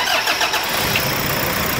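A Toyota Hilux pickup truck engine cranks and catches, settling into a steady mid-pitched running rumble, close by.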